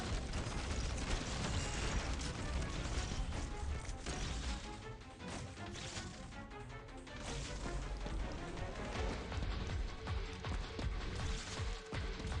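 Cannon fire and explosions from the tower-defense video game Arknights, a dense, continuous barrage of booms, crashes and mechanical clatter running loud and steady throughout with no talk.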